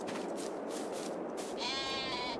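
Sheep bleating in Farming Simulator with free-roaming sheep: a steady wash of flock ambience leads into one clear, drawn-out bleat near the end, moderately close.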